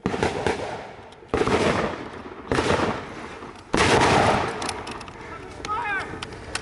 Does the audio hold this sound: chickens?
no